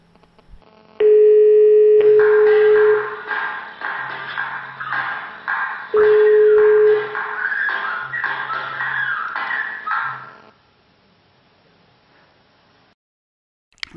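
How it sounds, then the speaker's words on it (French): Avaya click-to-dial telephone call tones play out: steady beeping tones recur against a busy electronic burble, with low pulsing tones underneath, running about nine seconds before falling to near silence. "Le téléphone va alors composer le numéro afin d'appeler le destinataires."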